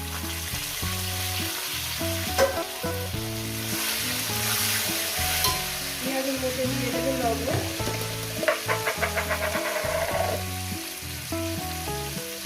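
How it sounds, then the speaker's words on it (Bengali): Whole spices, cumin seeds and bay leaves fry in hot oil during a mutton preparation, giving a steady sizzle with crackling pops, heard under background music that runs throughout. "ওই তেলের মধ্যে দিয়ে দেবো ওটা গরম মশলা জিরে তেজপাতা এগুলো দিয়ে দিলাম কয়েক সেকেন্ড ভেজে নেব"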